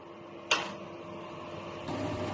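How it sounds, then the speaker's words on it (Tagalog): DTF printer running a head cleaning cycle, a soft steady mechanical hum with a sharp click near the start and a slight rise in motor noise toward the end, faint and alone. "Head clean. Punasan ng wiper pagkatapos mag-head clean."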